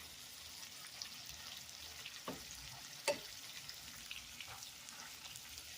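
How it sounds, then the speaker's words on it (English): Beyond Burger patties frying in a pan, a steady soft sizzle with faint crackles and one sharper pop, fairly quiet and close, no voices. "we got our meat cooking up pretty good"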